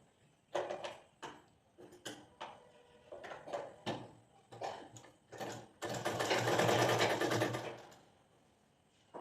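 A sewing machine stitches cloth during a tailoring lesson, first in a series of short, close bursts with pauses between them, then in one longer continuous run before falling quiet.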